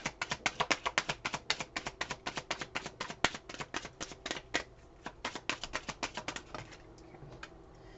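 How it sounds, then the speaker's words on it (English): A deck of cards being shuffled up close, a rapid run of crisp riffling snaps in quick bursts that thin out and trail off toward the end. "Shuffle the deck one more time."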